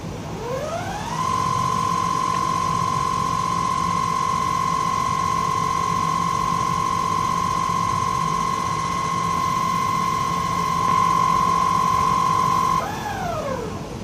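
A spin coater whirls a solution-coated substrate, a steady high motor whine that rises quickly, holds level for about twelve seconds and then winds down, with a constant vacuum hiss underneath and no talking.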